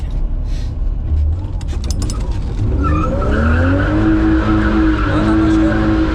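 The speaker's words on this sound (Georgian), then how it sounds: "შენ როცა დაიწყებ ესე ვთქვათ დრიფტს, უკვე დიდ გაზს მისცემ" A car drifts under heavy throttle, its engine roaring loud and close, while a wavering, rising tire squeal takes over through the second half.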